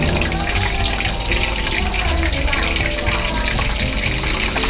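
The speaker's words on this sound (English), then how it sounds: "It's almost like I think it is like deep frying." Shrimp balls deep-fry in hot oil for a Sichuan Kung Pao crystal shrimp dish, giving a dense, continuous bubbling hiss that stays close and even throughout.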